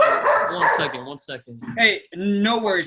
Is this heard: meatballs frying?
no